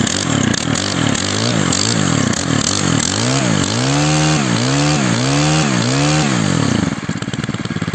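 A Zenoah G300 chainsaw, restored, revs loudly and close in repeated rising-and-falling bursts before dropping into a steady idle.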